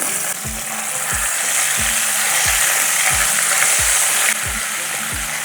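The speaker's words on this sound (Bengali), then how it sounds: "তিরিশ সেকেন্ডের মতন আদাটাকে ভেজে নিয়েছি" Ginger paste sizzles loudly in hot oil with asafoetida and whole spices, a constant close frying hiss with a regular low scraping stir every second or so.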